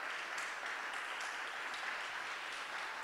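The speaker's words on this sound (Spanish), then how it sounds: "Puede darle palmas al Señor." A church congregation in San Ramón claps during a Sunday-morning service, giving steady, fairly quiet applause with no talk over it.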